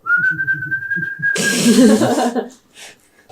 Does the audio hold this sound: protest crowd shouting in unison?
no